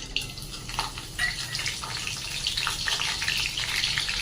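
Green chillies fry in hot oil for chivda, a steady loud sizzle and bubbling with crackling bursts running throughout, with no voices.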